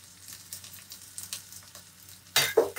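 Coriander stalks, garlic and shallots fry over medium-high heat in pungent mustard oil, a faint crackling sizzle that flares into a louder, sharper burst of spitting near the end.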